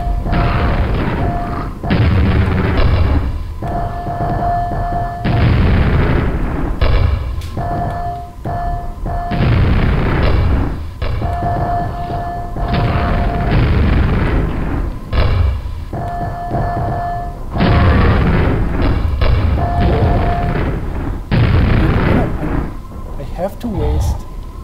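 Grenade explosions in the video game Quake, with repeated heavy booming blasts in close bursts over a continuous game soundscape.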